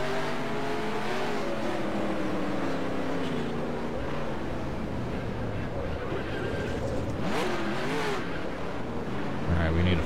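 An AI-driven race car engine drones and revs in a racing video game, a continuous motor sound with shifting pitch and a car passing close by, while a player talks over it.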